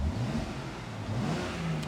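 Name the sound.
BMW X3M engine revving, eco mode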